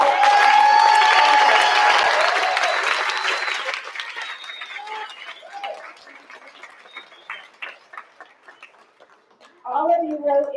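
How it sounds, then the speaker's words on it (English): A board meeting audience gives a collective round of applause for student story writers: dense, loud clapping that gradually thins into scattered claps before a voice breaks in at the end. "join me in one last round of applause, a collective round of applause for all"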